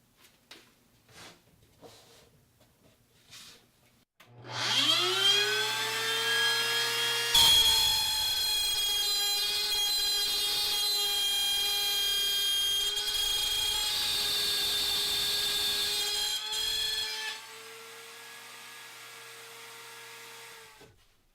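A router cuts wooden rings for a round wall shelf: after a brief faint lead-in, the motor spins up to a loud, steady high whine, changes pitch as the bit bites into the wood, then winds down near the end.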